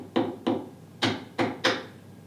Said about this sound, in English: take my chisel and pop it right on the corner like this